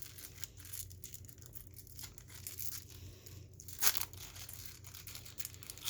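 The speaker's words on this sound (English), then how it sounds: "Then we got our foil pack to conclude things." Crinkly foil tearing as a baseball card pack is ripped open, a few close rustles and one sharp rip midway, fairly faint with no voices.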